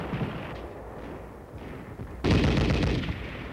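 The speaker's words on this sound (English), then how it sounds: "By firing blank ammunition against trainee attackers" Soldiers fire blank ammunition against trainee attackers in a field training exercise: distant rumbling gunfire, then a loud sustained burst of overlapping shots erupts partway through and keeps rolling.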